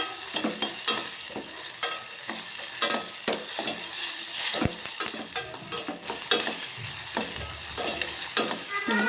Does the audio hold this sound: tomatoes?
yes